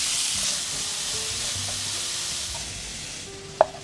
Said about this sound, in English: First, send in the garlic to fry. Then, spread out the onions. Cook, stirring constantly.